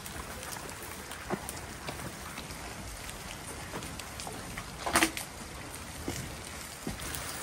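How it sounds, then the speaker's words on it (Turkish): Steady rain falling outdoors at a campsite, a dense continuous patter of drops hitting surfaces, moderately quiet, with a few louder nearby drips and taps scattered through it. "Yağmur yağıyor, o yüzden toplamam gerekiyor."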